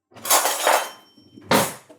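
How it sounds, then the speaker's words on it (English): A metal spoon clinks against kitchen dishes three times, two close together and then one more after a short pause. The clinks are bright and sit near the listener in an otherwise quiet room. "I'm just going to get a spoon"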